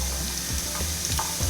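Onion and green and red chilies hitting olive oil in a hot pan, giving a steady close sizzle and frying hiss with a few stirring scrapes, no talking.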